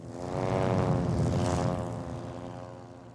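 A propeller aerobatic airplane at an air show drones steadily overhead, its engine tone swelling and then slowly fading as it passes, loud and sustained with no other sounds.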